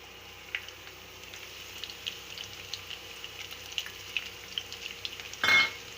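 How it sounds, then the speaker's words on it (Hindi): Chopped garlic fries in oil in a pan, a soft, quiet sizzle dotted with small pops and crackles, ending in a brief louder burst of spitting. "लहसुन को बस हम थोड़ी देर इसमें भूनेंगे"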